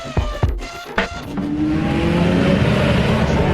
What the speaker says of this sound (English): This is the sound of the Le Mans 24 hours as the cars leave the grid